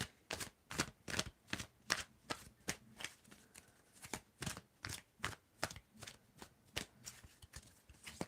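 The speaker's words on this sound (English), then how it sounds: "I'm going to stop the shuffle in 5, 4, 3, 2, 1." A deck of tarot cards is shuffled in quiet, repeated riffles and soft taps, a close series of short rustling bursts in an uneven rhythm with no talking.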